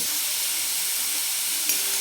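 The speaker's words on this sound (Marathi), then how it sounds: "मी तेल न टाकताच अगोदर कांदा असा कोरडाच भाजून घेणार आहे" A steady, dry hiss and crackle of chopped onions roasting without oil in a hot pan, continuous and fairly close, with no talking.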